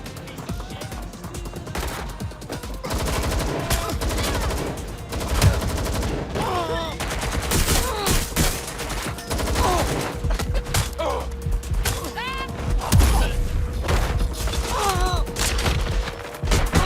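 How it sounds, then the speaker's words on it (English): Gunshots in the video game Watch Dogs Legion: dense, continuous automatic fire with repeated sharp cracks and booms over about seventeen seconds, loud and close, with voices shouting underneath. "Shots fired."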